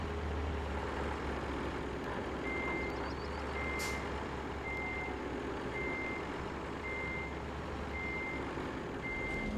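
A heavy truck in RoadCraft idles with a low engine drone while a steady, evenly spaced reversing beep repeats throughout, with a brief hiss partway through; no one speaks.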